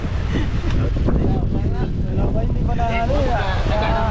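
Loud, steady wind buffeting the microphone throughout, with a rumbling roar and faint voices underneath, outdoors during a meal of freshly caught fish.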